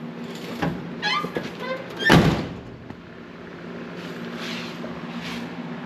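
A 1974 Chevy square body pickup door swings shut with a single solid, heavy thunk, preceded by brief latch and handling noises and followed by quiet garage ambience.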